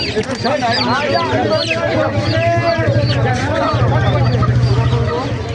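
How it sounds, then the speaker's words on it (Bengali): Chickens cluck and squawk continuously at a traditional village poultry and pigeon market, many birds close together, with lively talk and crowd babble running underneath. "ঐতিহ্যবাহী মুরগির বাজার।"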